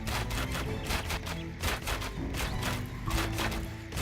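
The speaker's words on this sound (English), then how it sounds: "Oh, all these watchtowers firing." Watchtowers firing in Age of Empires during an AI-only match between Greece and the Hittites, a dense rapid clatter of small shots and impacts layered over busy game music and effects.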